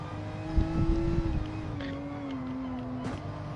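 A Ferrari race car in a racing game, its engine a steady droning tone that rises and falls as it drives past, moderately loud with no talk over it.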